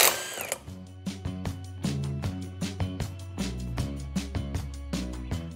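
A ratchet works a nut loose on a Honda GX270 engine during an overhaul, a run of quick, close mechanical clicks and low knocks repeating steadily throughout, with no talking.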